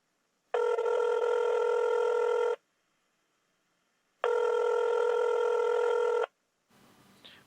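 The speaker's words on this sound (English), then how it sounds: "try and get him on the phone then" A telephone rings twice, each ring a steady electronic trill lasting about two seconds with a pause between, clear and close in an otherwise quiet room.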